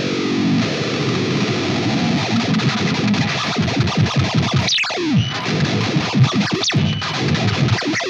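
Heavily distorted electric guitar played through an Axe-FX preset with a pitch-alternating effect, dense and loud with choppy riffing and warbling, wavering tones.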